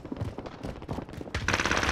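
Rapid automatic gunfire crackles through a Call of Duty multiplayer match, bursts of machine-gun shots stacking into a dense fusillade that grows louder and brighter near the end, with no voices over it.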